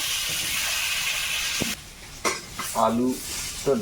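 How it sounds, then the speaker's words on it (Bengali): Potato and elephant foot yam frying in a pan, with a steady hiss of hot oil that drops away partway through, followed by a few clanks and scraping stirs from a spatula and brief sounds of handling. "আলু আর ওলটা ভেজে উঠিয়ে নিলাম"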